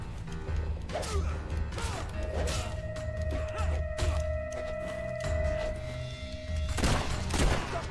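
Gunshots in a Fable 3 battle: scattered sharp cracks and impacts, several spread across the stretch, over a steady low rumble and a sustained musical tone, with no talk heard.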